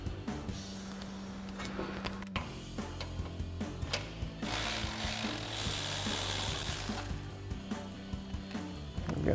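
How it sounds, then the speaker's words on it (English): A hand ratchet with a 15 mm socket working an exhaust hanger bolt on a 2019-2024 GMC Sierra 1500, quick repeated pawl clicks in bursts with metallic rubbing and clunks, close up, no talk. "So we've got our 15 mil socket on our ratchet."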